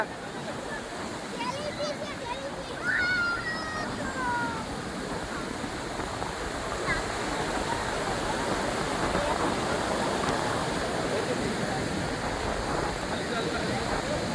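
Heavy waves from a stormy sea roll onto the shore in a dense, unbroken roar that builds slightly in strength, with a voice speaking briefly over the surf early on.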